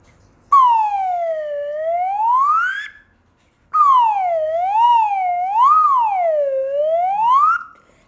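A children's slide whistle played twice: a smooth tone glides up in one long sweep, pauses, then wavers up and down in a second longer phrase, clear and alone without any talk.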